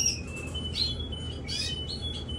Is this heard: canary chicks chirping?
yes